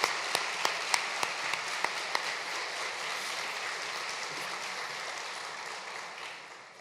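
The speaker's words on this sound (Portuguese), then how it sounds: "Uma salva de palmas a esses meninos que vão conversar com a gente mais tarde" Audience at an opening session of a parenting and adoption gathering applauding, a sustained wash of clapping with a few sharp individual claps standing out early, gradually fading toward the end.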